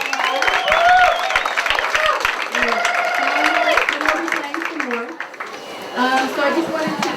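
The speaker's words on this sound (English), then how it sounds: "Let's give them a big round of applause." Audience applause and cheering for the Rose Valley Ramblers, Carrie and Nancy, at a Boulder co-operative market gathering, loud and sustained with a crowd of voices talking and calling out over the clapping.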